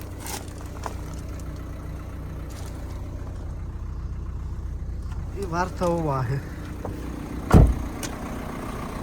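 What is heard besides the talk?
Renault Megane 3 hatchback 1.6 petrol engine idling while warming up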